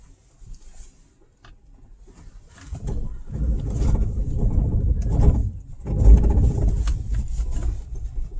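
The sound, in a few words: car anti-lock brakes engaging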